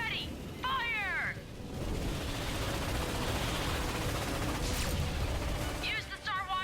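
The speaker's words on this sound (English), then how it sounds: "Starwatch ion cannon at 70. Cannons ready. Fire!" Starwatch ion cannon from Ratchet and Clank firing in a sustained roaring, crackling barrage that runs through the whole stretch, with short chirpy synthetic sweeps at the start and near the end.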